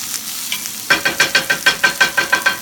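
Fajita vegetables sizzle in a hot pan, with a steady hiss broken by about a dozen rhythmic stirring scrapes close up, and no talking.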